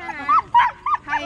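A native Filipino mongrel dog gives several short, high yips and barks in quick succession, close and fairly loud.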